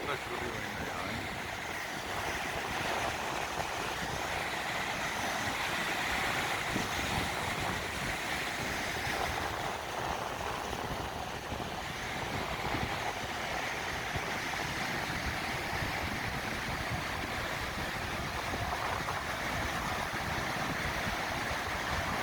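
Sea waves break at Chilpo beach on a windy day, a continuous faint wash of surf mixed with wind rumble across the microphone, steady throughout.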